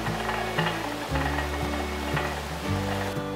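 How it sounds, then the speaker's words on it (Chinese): Winter melon braising in a lidded pot over a low gas flame, a steady soft bubbling and sizzle with a constant hum beneath, close and continuous. "盖上锅盖，再继续用小火慢慢卤"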